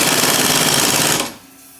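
An impact wrench rattles loudly and rapidly up close as it tightens a ball joint bolt on a 2002 Chevy Trailblazer, a hammering burst of about a second that cuts off abruptly into quiet.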